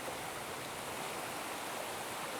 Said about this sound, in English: It's best just to find a small spring or a branch or a small creek like this.